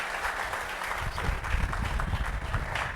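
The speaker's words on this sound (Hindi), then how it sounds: "इनके लिए भी एक ताली लगा दीजिए।" An audience at a Bihar police sub-inspector results celebration applauds for a successful candidate's father. The steady crowd clapping swells slightly and carries a rumbling low-end hum under it, and no voice is heard over it.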